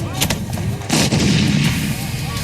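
Artillery fire and bomb blasts in the battle for Mosul, Iraq, booming in a continuous rumbling barrage with a sharper, louder burst about a second in, thick low-end roar throughout.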